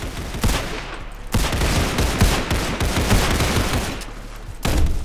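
Guns fire in Roblox Criminality: a loud, close burst of rapid shots, then a steady spray of gunfire that keeps going, with a short break near the end before a final sharp burst.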